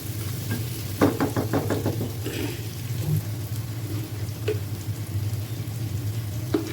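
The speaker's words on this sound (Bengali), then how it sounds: "পেঁয়াজগুলো দিয়ে একসাথে ভেজে নিলাম" Hilsa fish fries with onions, turmeric, chilli and coriander powder and salt, a low steady sizzle with occasional spoon taps and knocks over a constant kitchen hum.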